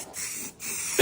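Aerosol spray can hissing steadily while priming an EG Honda Civic, a continuous close spray with a brief pause midway and a louder burst at the end.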